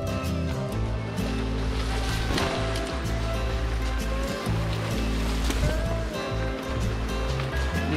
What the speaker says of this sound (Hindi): छोटी सी रिवर है यहाँ पे, इसको बोलते हैं गणगदन